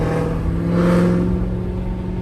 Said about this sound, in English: I'm not sure if you guys can hear how loud the exhaust is in track mode